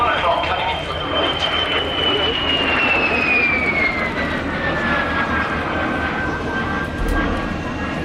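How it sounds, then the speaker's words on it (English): A Vampire jet aircraft flies a display at the Midlands Air Festival. Its engine makes a loud, steady roar with a high whine that slowly falls in pitch as it passes, continuous for several seconds. "This is the Vampire. This was an extremely successful aircraft for British aircraft industry post-war."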